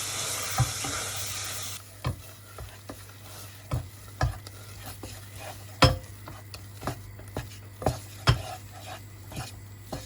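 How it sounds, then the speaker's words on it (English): A wooden spoon stirs milk into a flour and margarine sauce in a pan, giving regular scraping knocks against the pan over a steady low sizzle, close and clear with no talking. "you keep adding the milk and you keep stirring"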